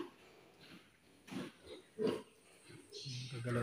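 A sow on a pig farm gives a few low, short grunts at moderate distance, scattered between quieter stretches with faint background farm noise.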